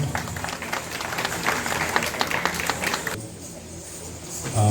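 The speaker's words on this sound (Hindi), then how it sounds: "भरपूर तालियां" An audience at a Mahadev temple event claps, moderately loud and fairly far off, with the clapping thinning partway through and some crowd noise underneath.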